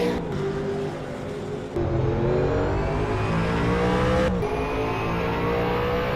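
V8 Supercars in a racing video game accelerating hard down the main straight, a loud, sustained engine roar with rising pitch that carries on steadily with no talk.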